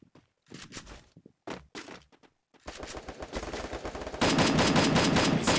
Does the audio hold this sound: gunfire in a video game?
yes